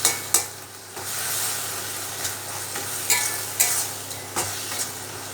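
Tomatoes sautéing in a pan for a capsicum gravy, a soft continuous sizzle punctuated by several sharp knocks and scrapes as a utensil mashes them against the pan.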